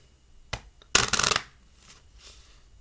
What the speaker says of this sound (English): So now we can give these a shuffle